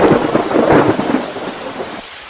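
Heavy rain pours steadily while rolling thunder rumbles loudly, swelling then fading into a quieter downpour; a stormy night setting for a horror story, with no voices.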